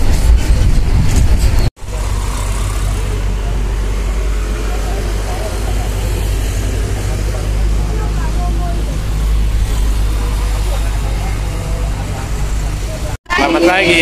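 Macito, the Malang City Tour bus, rolls downhill with a steady low engine drone and road rumble throughout, joined by people talking inside the cabin and brief cuts near the start and end.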